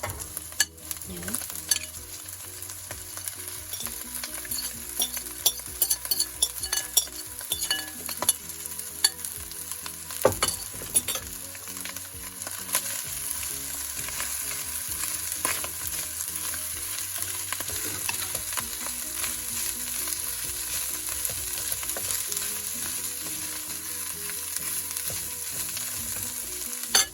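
Leftover grilled chicken fries and gets stirred in a pan for chicken sisig, a steady close crackling sizzle with scraping stirs and small clatters running throughout, no voices.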